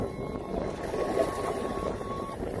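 Kicker motor on a 2012 Jetcraft boat running at idle, a low steady rumbling drone with a faint hum, close and continuous under wind noise, with no talk.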